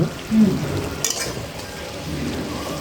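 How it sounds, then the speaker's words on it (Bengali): Pabda fish being slowly stir-fried for bhuna in a pan, giving a steady close sizzle with soft stirring scrapes and a brief utensil clatter partway through. "মাছটা এখন আস্তে আস্তে হ্যাঁ, কষবে"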